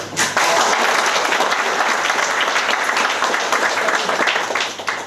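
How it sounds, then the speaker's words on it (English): A dense, steady burst of audience applause at a talk, many hands clapping together loudly and continuously for about five seconds before tapering at the end. "A big round of applause for India."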